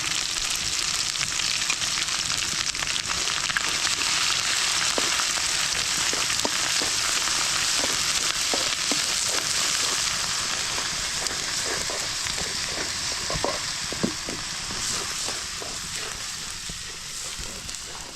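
A paste of garlic, ginger, cumin and mustard fries for mango pickle, giving a continuous loud sizzle in oil with scattered stirring clicks and spatters that thin out slightly toward the end.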